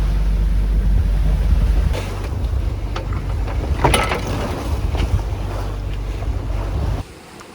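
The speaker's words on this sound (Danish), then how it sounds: "Så kom vinden." Strong wind rushes over a sailboat crossing the Mediterranean, a loud, steady roar with water splashing and brief gusty bursts, cutting off near the end.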